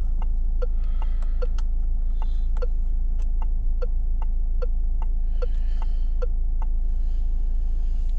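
A Peugeot SUV's turn indicator ticks in a steady, even rhythm of about two clicks per second over a low constant cabin hum, close and clear with no talk.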